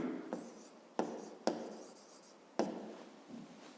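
Pen or marker writing out a physics problem solution, with scratchy strokes and several sharp taps as new lines begin, fairly close and alone without talk.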